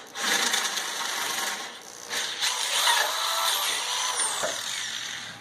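An electric drill bores a bolt hole through metal while fitting a single-wheel mower sulky, a steady whirring grind that rises and falls as the bit bites, close and continuous without speech.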